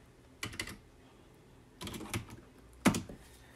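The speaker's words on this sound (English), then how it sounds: "I guess I need to be typing in the terminal." Three short bursts of keystrokes on a computer keyboard while a command is typed into a Linux terminal, quick clustered clicks up close with quiet pauses between, no talk.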